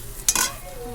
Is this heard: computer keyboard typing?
no